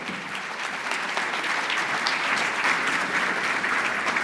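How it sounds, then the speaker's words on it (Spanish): Sustained audience applause at an economics panel session of a congress in Buenos Aires, dense steady clapping from a large crowd that holds level throughout without talk. "Matías Tombolini, bienvenido a la ciudad y un aplauso para recibirlo"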